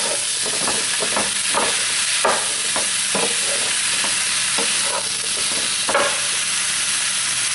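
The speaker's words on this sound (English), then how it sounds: "our kielbasa, onion, give that a nice stir" Kielbasa and onion frying in a pan, a steady close sizzle and hiss under repeated scraping stirs of a spoon or spatula, with no voices.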